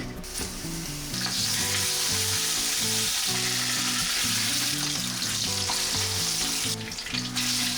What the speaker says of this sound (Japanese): そうしたらば一度こちら全面焼き付けてちょっと固めていきますね。